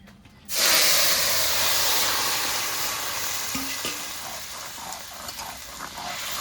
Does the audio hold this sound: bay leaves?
yes